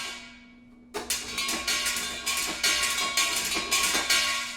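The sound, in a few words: anvil hits from percussion sample library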